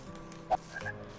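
A frog in The Purring Quest video game lets out a single short croak, clear and close against a quiet game soundscape.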